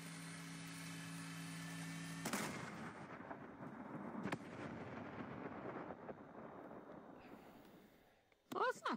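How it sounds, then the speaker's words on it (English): Fireworks explode in a video game, a sharp loud blast followed by a long rumbling, crackling decay with a second thud, then fading quiet and a brief burst of sound at the end. "we're kind of fucking around with fireworks"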